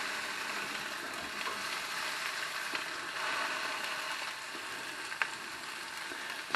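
Pork chops searing in a pan for slow cooker chops, a steady even sizzle and crackle throughout with a few faint clicks, fairly quiet and with no voice.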